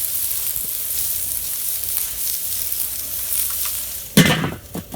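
Onions and peppers with olive oil and paprika sizzle steadily in a pan over coals, a loud, even frying hiss; near the end, sharp stirring scrapes and clatter break in.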